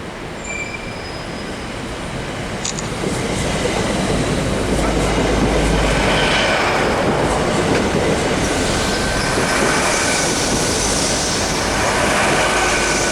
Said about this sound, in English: Coming down here is one of the new Azuma trains that'll be operating on the LNER